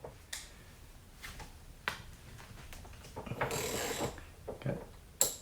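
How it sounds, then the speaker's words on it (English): A Capri Tools short fixed-head ratchet gives several quiet, close clicks and mechanical snaps in short bursts, with brief pauses between them and no talking. "Now we have the fixed head Capri Tools. This is the shorter ratchet."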